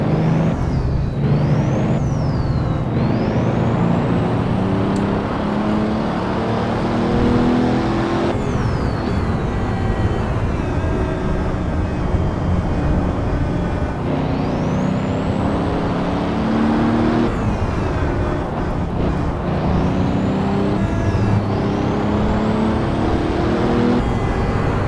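A fast car tears around the Shutoko expressway circuit in a racing video game, its engine note loud and steady with repeated rising and falling shift sweeps across the whole stretch.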